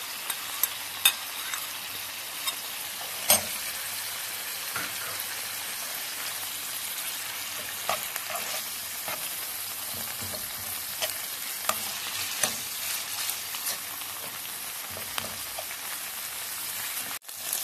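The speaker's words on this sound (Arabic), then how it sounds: "راح نفروها على هذاك لا فيون داشي، نخلوها تطيب معاها." Grated potato mixed with parsley fries in a pan, giving a soft continuous sizzle that stays fairly quiet, with scattered pops and stirring clicks throughout. No one speaks.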